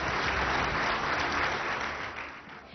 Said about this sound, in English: A bigger round of applause for your IT Minister.